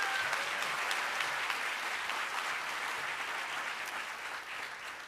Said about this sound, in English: Can you guys please give our 2 students a round of applause?